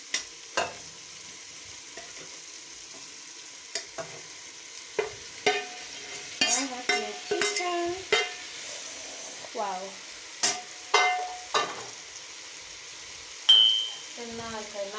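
Onions and chicken bubble and sizzle in a pot as a utensil stirs them, with scattered clinks and scrapes and brief murmurs of a voice.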